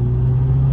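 A McLaren 720S engine at high RPM while the car rolls slowly, a steady, close, low droning hum that holds one even tone throughout without rising or falling.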